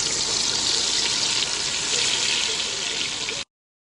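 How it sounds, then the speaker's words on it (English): Steady stream of water poured into a cooking pot holding blended tomato, onion, garlic and chili for sofrito, a continuous close splashing rush that stops abruptly near the end. "Now I'm going to add a little bit of water in here just to rinse everything off"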